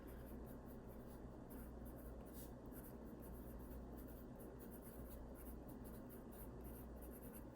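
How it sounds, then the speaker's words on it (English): A pencil scratches on paper in close, quiet, continuous strokes with faint rhythmic pulses, heard alone without talk. "I'm going to write that down."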